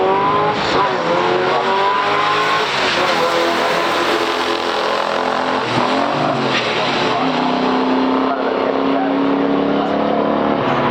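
A 1968 AMC AMX and a 1970 Pontiac GT-37 run a stock drag race, engines roaring and revving loudly as they climb through the gears under a steady crowd and track din, with speech mixed in.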